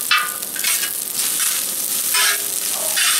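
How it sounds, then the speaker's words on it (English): Carrots stir-fry with pork lo mein in a discada cowboy wok, loud crackling sizzle with repeated scraping surges as the food is tossed and stirred, close up and without talk. "I want to get my carrots in there"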